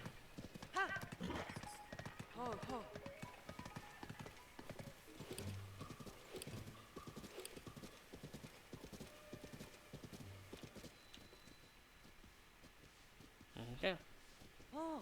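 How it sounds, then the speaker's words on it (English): A horse walking through town in The Legend of Zelda: Tears of the Kingdom, steady rhythmic clip-clop of hooves with a neigh near the end, quiet, with a voice talking over parts. "It feels nice to be strolling in town with a good horse"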